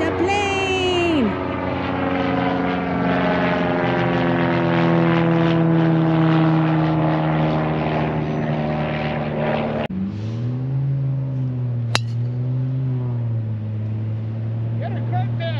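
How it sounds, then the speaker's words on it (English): Propeller airplane passing over a golf course, its droning engine tone loud and shifting in pitch as it flies by, with people talking and shouting over it. "The plane!"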